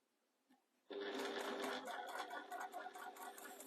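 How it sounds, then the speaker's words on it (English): A straight stitch sewing machine starts after a short quiet pause and runs steadily at close range, with a continuous whirring hum and rapid stitching clatter. "this is just a straight stitch machine"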